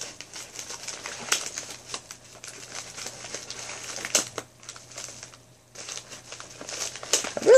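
Paper and plastic packaging of a book mail package crinkle and rustle close by as it is torn and unwrapped, with a brief pause before the crumpling resumes.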